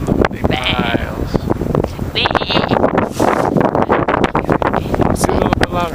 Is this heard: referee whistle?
no